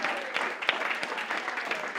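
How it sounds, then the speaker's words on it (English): A congregation at a Unity church service applauds, a fairly soft, even patter of many hands with a few sharper claps standing out, and some voices mixed in. "Let's give them a round of applause."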